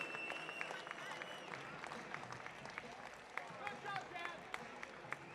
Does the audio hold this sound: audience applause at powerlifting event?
yes